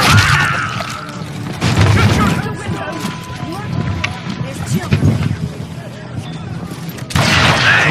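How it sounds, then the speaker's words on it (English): Shotgun blasts and gunfire in the Western shooter Call of Juarez: Gunslinger, with loud booming shots and crashing impacts close by, separated by chaotic clatter, while a narrator's voice talks over the action. "I was just glad I had Deputy Bob's mean-ass shotgun"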